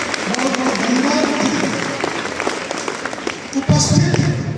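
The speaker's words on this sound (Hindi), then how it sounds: "एक बार ताली बजाइए" Audience applause at a school event held at an intermediate college in India: sustained, dense clapping from a large crowd, steady and loud throughout, with a brief surge near the end.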